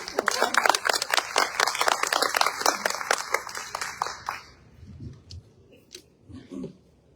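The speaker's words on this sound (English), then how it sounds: "So if you will give a round of applause for Eric" An audience at a meeting gives a round of applause: dense, close clapping for about four seconds that stops abruptly, followed by quiet shuffling and low murmurs.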